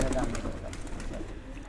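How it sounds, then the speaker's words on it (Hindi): Jamni breed pigeons cooing softly and close by, a low, continuous murmur, with a voice briefly speaking over the start. "ये जामने कबूतर है"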